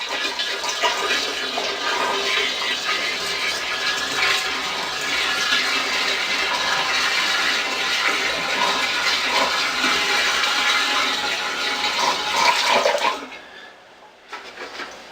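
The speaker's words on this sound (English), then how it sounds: "we're going to add distilled water to top it off" Distilled water gushes steadily into a cider fermenter for about thirteen seconds in a loud, turbulent pour. The flow then cuts off abruptly and gives way to quieter trickling.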